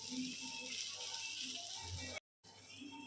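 Eggplant frying in a little oil in a pan, a faint, steady sizzle that runs throughout and briefly cuts out near the end.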